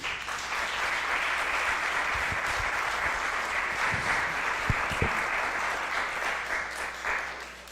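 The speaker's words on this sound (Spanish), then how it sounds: "Un aplauso al Señor." A church congregation gives a sustained round of applause to the Lord during a service, loud even clapping from many hands continuing for several seconds before easing off.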